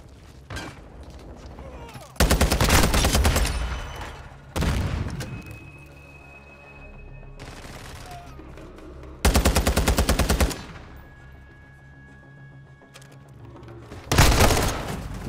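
Rapid automatic gunfire in the Call of Duty Modern Warfare II multiplayer team deathmatch, with several loud full-auto bursts separated by quieter stretches of game ambience.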